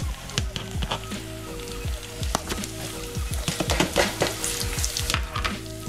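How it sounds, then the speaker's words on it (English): Onions and crushed chili sizzling in a hot pan, a close crackling sizzle with sharp pops and bursts of spattering that come and go over a steady hiss. "I'm going to add my some onions and a bit of crushed chili"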